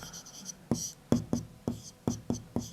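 Chalk or a pen taps and scratches across a board or paper in short, evenly spaced strokes, about eight crisp hits in quick succession, close and faint with no talking.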